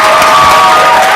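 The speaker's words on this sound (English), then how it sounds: "Give them a round of applause." A school audience at a World Maritime Day open day bursts into dense, steady applause and cheering for the winning team, a loud, continuous wash of clapping that fills the whole moment.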